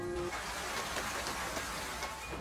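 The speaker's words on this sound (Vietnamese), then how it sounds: "Bên ngoài mặc dù vẫn đang mưa, nhưng mưa rõ ràng đã giảm." Rain falls steadily, making a soft, even hiss with scattered drop patter throughout.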